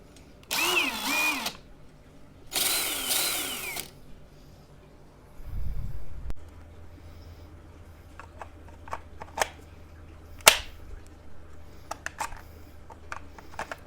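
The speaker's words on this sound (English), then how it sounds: "This is the hammer drill. Sounds pretty nice." A brushless DeWalt hammer drill runs in two loud whirring bursts, the second at a higher speed, followed by quieter handling clicks and taps.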